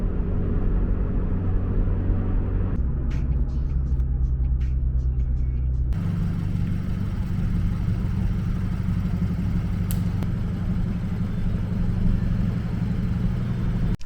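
A Subaru BRZ with a manual gearbox cruising on the road, heard from inside as a steady low engine drone and road rumble that shifts in tone partway through, with faint clicks and taps above it.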